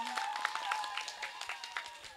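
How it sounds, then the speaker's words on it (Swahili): An audience at a CCM political rally in Matimba ward, Likwaya, claps along in quick rhythmic beats. The sound is quiet and distant, mixed with tonal singing or music. "Mpigie makofi Mama Samia"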